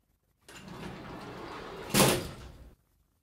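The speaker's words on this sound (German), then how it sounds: "Und so eine Gittertür, die hat ja ein, ein, also ein eigenes Geräusch" A metal grille gate door, made as a radio-play sound effect, slides open with a steady rattling scrape and ends in one sharp metallic clank before it stops.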